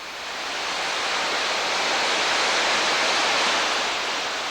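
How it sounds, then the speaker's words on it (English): Waterfall off Cataract Street in Worcester, a steady, full hiss of falling water that swells in and holds at a constant loud rush, with no voices. "a waterfall off of Cataract Street remains untouched by Worcester's development boom"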